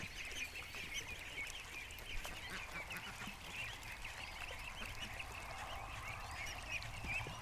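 A flock of ducks and goslings gathered near a backyard clothesline stand gives a continuous chorus of soft quacks, honks and peeps at moderate distance, steady throughout without any talk.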